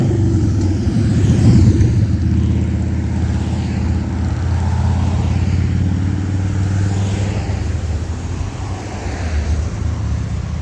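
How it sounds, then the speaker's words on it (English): Road traffic passes continuously as a loud, steady engine rumble and tire roar, swelling slightly near the start and holding for several seconds, with no voices. "Lots of traffic."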